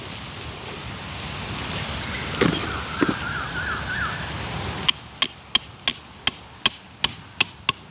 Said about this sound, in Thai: ต้องตอกแบบนี้เลยครับ